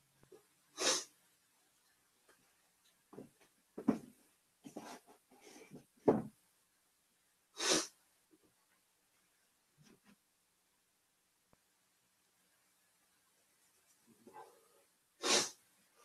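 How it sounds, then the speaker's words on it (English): Scattered sniffles and short nasal snorts from a person with a bit of a cold, quiet and close, coming in isolated bursts separated by long near-silent gaps. "A bit of the sniffles."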